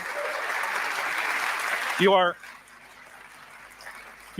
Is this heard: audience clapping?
yes